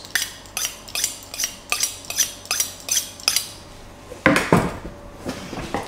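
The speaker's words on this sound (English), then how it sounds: "This is one of my favorite honing rods." A kitchen knife drawn along a honing rod, about eight evenly spaced metallic swipes at a brisk steady rhythm, then a couple of louder, harsher strokes, close and with no talk.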